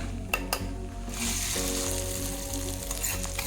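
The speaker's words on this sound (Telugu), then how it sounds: "ఇదిగోండి కొంచెం శనగపప్పు, ఆవాలు, జీరా, కొంచెం ఇంగువ, ఒక 4 ఎండుమిరపకాయలు పోపు వేసి" Chana dal, mustard seeds, cumin, asafoetida and four dried red chilies hit hot oil for a tempering for coriander-tomato chutney, giving a steady close sizzle with crackling pops and a few metal scrapes.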